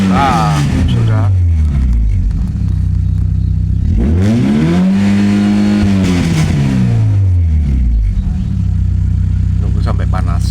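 A Toyota Great Corolla's 4A-FE engine is warming up, revving loudly in a long rising and falling sweep between steadier idle passages, close up.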